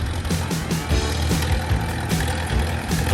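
An International Farmall model A tractor engine runs steadily at a parade-style tractor tour, a continuous low chugging idle with faint background noise throughout.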